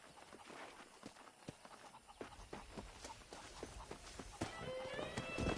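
Horse hooves clip-clop in steady, fairly close steps in the game Red Dead Redemption, a run of sharp knocks over a light ambient bed, with a brief tonal game sound near the end.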